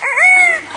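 A parrot mimics a rooster's crow, one short rising-then-held call with a clear harmonic tone, close and fairly loud, with no one talking over it.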